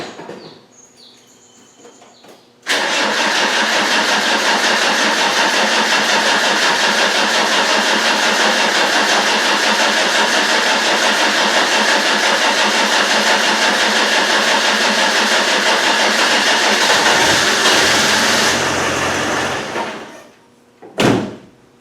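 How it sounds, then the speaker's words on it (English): A Land Rover 300Tdi diesel engine cranks on and on without catching, a loud, steady starter-motor churn running nearly twenty seconds before cutting off, with a brief clunk at the end. "It's cranking and cranking and cranking, trying to pull fuel back up to the injector pump."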